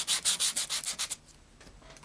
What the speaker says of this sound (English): When I sand the paper, it becomes more velvety